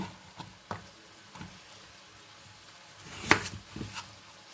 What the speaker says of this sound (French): on va venir couper le concombre en 2 parties